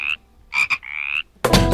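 A human voice imitates a frog croaking during a preschool kids' farm song, giving three separate nasal croaks in a rhythmic pattern before a louder burst of sound cuts in at the end.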